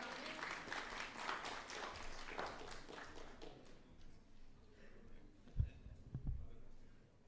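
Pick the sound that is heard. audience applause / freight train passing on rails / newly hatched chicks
audience applause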